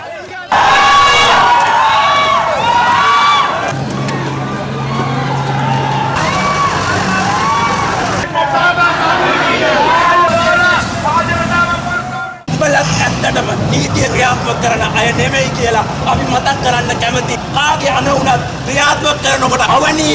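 Sri Lanka protest crowd being dispersed by police with tear gas: loud shouting and chanting voices, running and commotion with vehicle noise, in several abrupt cuts of close, chaotic crowd sound.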